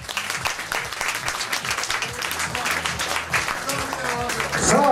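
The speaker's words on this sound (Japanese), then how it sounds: "改めて皆さん大きな拍手をお願いします。" An indoor audience at an idol group's CD member announcement event claps steadily and energetically, a dense, close patter of many hands swelling slightly toward the end.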